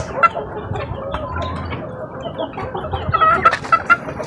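Young chicks give scattered, thin peeps, with a few quick chirps clustering near the end against a low background hum.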